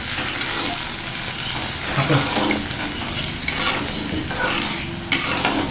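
Steady crackling sizzle of hot oil tempering poured over dhokla, continuous and close, with small bursts of spattering throughout.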